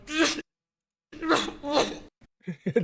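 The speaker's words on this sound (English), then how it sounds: "And then he sneezes." A person sneezes close up in sharp, explosive bursts separated by short pauses, with talking voices around them.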